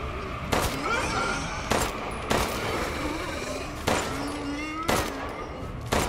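Video game gunfire in Resident Evil Village comes as five or six sharp, loud single shots at irregular intervals over a dense game soundscape, with faint speech.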